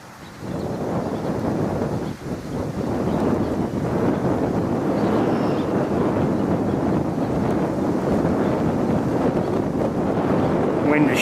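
Strong wind buffeting an outdoor microphone on a birding tour, a loud continuous roaring rumble with gusty swells that never lets up, and a voice faintly audible beneath it.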